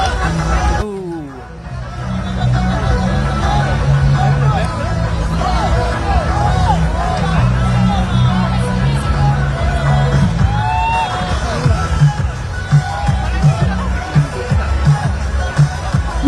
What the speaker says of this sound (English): You can hear them shouting chants of dig, dig, dig, pedal, pedal, pedal, go faster